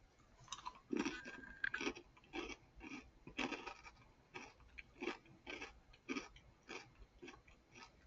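Strawberry white chocolate flakes crunched up close while chewing, a steady run of crisp, quiet bites and crackles with no talking.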